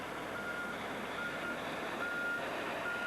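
A dump truck at a construction site gives off repeated high reversing beeps in an even rhythm over steady broadband engine and site noise, with no talking.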